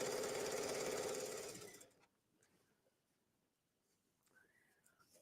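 A sewing machine runs loud and fast, stitching half-inch elastic into a tunic waistband, then stops abruptly after about two seconds, leaving a quiet room with faint handling noises.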